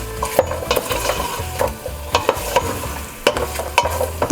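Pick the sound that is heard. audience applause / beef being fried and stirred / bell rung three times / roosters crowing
beef being fried and stirred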